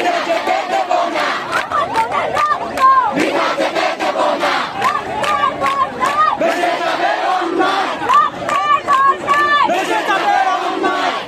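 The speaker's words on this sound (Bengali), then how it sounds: "বিক্ষুব্ধ শিক্ষার্থীরা এ সময় মহাসড়কে অবস্থান নিয়ে বিভিন্ন স্লোগান দিতে থাকেন।" Protesting students gathered on a highway shout slogans together in loud, continuous rhythmic chants, a dense crowd of voices close by and filling the whole stretch.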